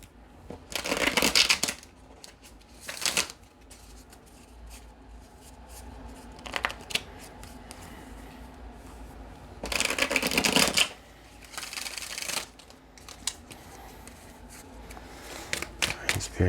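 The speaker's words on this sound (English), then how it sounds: "I'm gonna shuffle the deck" A deck of tarot cards shuffled by hand, close up in several separate riffling bursts with quieter pauses between them.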